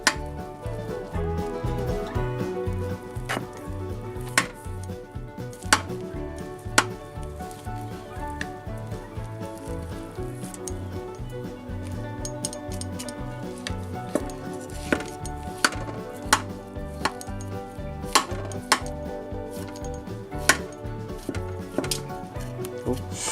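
A knife cuts the crispy crust of a baked hachis parmentier, a French cottage pie, into six pieces, giving steady crunchy crackling and sharp scraping clicks, close and fairly quiet, with no talking.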